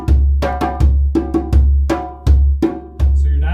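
Djembe accompaniment rhythm played with the dominant right hand leading rather than alternating hands, a steady pattern of close, resonant hand strikes mixing bass and higher tones, with no talking.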